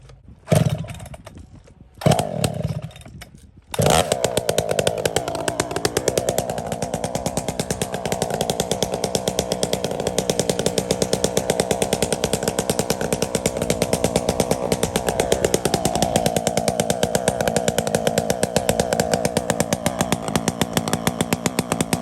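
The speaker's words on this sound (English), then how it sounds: "I was running this saw. I would sit there idling." A chainsaw at work on a big tree hollowed by carpenter ants starts with a few sputtering pulls, then idles loud and close in a steady, rough buzzing drone that rises and falls slightly.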